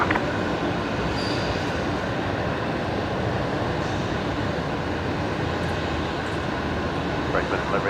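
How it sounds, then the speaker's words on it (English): A Qantas airliner arriving from Sydney and landing at Brisbane Airport at night, heard as a steady, broad jet roar that holds at an even level from start to finish, with no clear rise or fade. "It is Qantas 550 coming in from Sydney tonight."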